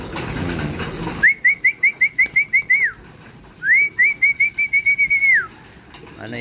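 Racing pigeons in a loft, with two bursts of rapid, evenly spaced high whistling notes close by, separated by a short pause, over a faint background.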